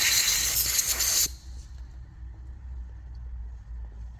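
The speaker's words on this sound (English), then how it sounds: "My preferred carburetor choke cleaner to use is the B12. Spray that in there." A loud, steady hiss of B12 carburetor and choke cleaner aerosol spraying into a carburetor close by for just over a second, then cutting off abruptly, leaving a low background rumble.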